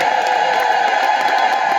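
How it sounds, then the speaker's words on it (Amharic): Church congregation at a morning service ululating in praise, a dense sustained chorus of high trilling voices that fills the space continuously and loudly. "በደንብ እልል ብላችሁ እግዚአብሔርን አመስግኑ።"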